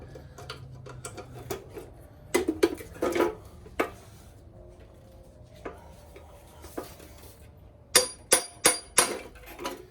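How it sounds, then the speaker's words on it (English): Sharp metallic hammer blows strike the intake box of a 1981 Suzuki GS550 motorcycle in a workshop, coming as scattered single knocks and then a quick run of four loud, close strikes near the end. "let's just try to hammer it again."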